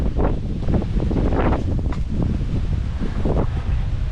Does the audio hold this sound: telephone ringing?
no